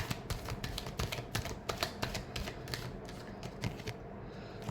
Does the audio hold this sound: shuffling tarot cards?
yes